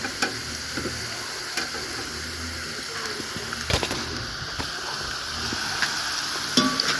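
Meat, potatoes, onion and other vegetables fry over an open fire with a steady, close sizzle and occasional clicks and scrapes of stirring.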